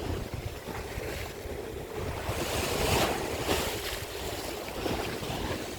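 High-tide waves surge onto Crosby Beach near Liverpool, a continuous wash of surf that swells into a louder breaking rush midway, with wind buffeting the microphone throughout and no voices.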